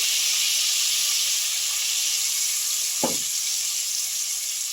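Eggs seasoned with salt, turmeric and Kashmiri chili powder fry in hot oil, giving a loud, continuous close-up sizzle and hiss with a single utensil clack partway through.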